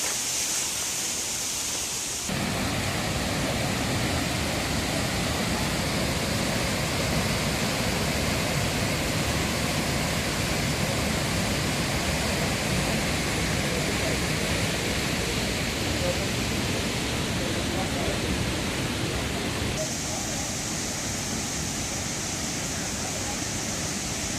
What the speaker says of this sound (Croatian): Timbumana vodopad.